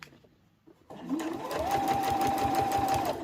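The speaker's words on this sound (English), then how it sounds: "I'm going to just stitch at my usual stitch length." A sewing machine starts up after a quiet moment and runs steadily at a fast, even hum while stitching a fabric mug rug. A faint whine rises as it reaches speed.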